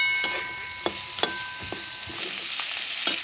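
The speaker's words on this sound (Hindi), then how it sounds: "सभी मसालों को फ्राई कर लिया है।" Spices fry in a pan in a village kitchen, soft sizzling punctuated by several sharp clicks of a utensil stirring against the pan, quiet and close with no talk.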